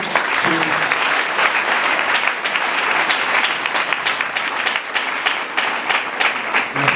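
Steady, dense applause from a church congregation at an anniversary celebration fills the whole stretch, many hands clapping at an even loudness throughout.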